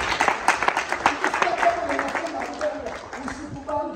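A church congregation claps together at a lively worship service, dense rhythmic applause filling the room while voices sing and call out over it.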